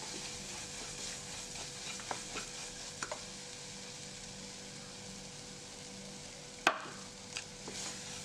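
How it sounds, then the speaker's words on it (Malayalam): Soft, quiet stirring of mashed banana, egg and grated coconut in a pan, made as a simple banana tea-time snack: faint scraping with a few light clicks and one sharper knock near the end, no voices. "തേങ്ങയും കൂടി ചേർത്തിട്ട് നന്നായിട്ട് തന്നെ ഒന്ന് മിക്സ് ചെയ്തിട്ട്"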